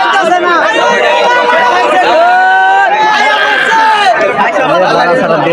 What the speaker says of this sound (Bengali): দর্শক চতুর্দিকেই কিন্তু মানুষের ভিড় এবং ওই হাল্লার আওয়াজ চলে আসছে পিছনে